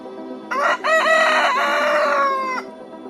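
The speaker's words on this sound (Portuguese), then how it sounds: "E o galo cantou." A rooster crows once, loud and close, a long drawn-out cock-a-doodle-doo standing alone over a quiet background.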